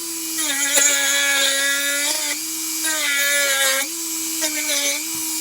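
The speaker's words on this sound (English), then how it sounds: "Now we got all these plastics grinded off." A high-pitched rotary grinding tool whines at close range while grinding off white plastic pieces inside a Mercedes-Benz C250 door, its pitch rising and dipping as it bites in short bursts.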